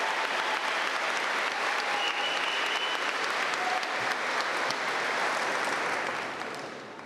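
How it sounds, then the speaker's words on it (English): Sustained applause from a large crowd at a commencement ceremony, steady and full for several seconds before tapering off at the end. "One more round of applause, please"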